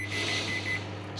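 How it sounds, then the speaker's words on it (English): Microwave oven in a home kitchen, heating cream of rice, gives short high electronic beeps over its steady low running hum, close by with no talking. "Right, in the microwave for about 5 minutes."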